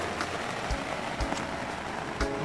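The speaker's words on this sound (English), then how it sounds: "Here comes the rain." Rain falls steadily on an RV in a continuous, fairly loud hiss, with a few sharper drop taps landing near the roof now and then.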